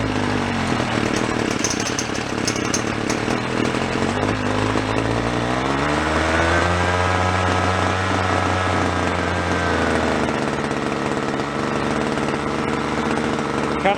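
Old junk string trimmer picked up from a roadside, its small two-stroke engine running with a rich carburetor setting, buzzes loudly and steadily near the mic, pitch sliding down and back up as the idle speed is turned down.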